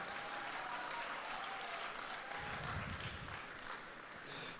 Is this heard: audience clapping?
yes